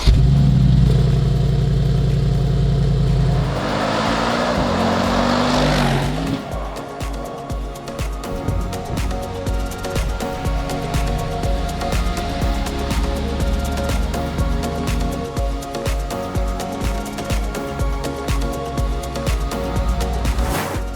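A tuned 2020 Mercedes-AMG G63 V8 fires up with a loud rising crank and roar, then settles into a deep, steady, rumbling idle with rhythmic pulsing throughout, close and alone with no talk.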